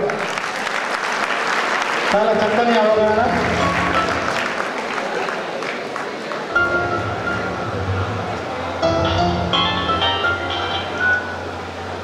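A crowd in an auditorium at a traffic-safety awareness seminar claps loudly and steadily, with a voice briefly urging louder applause.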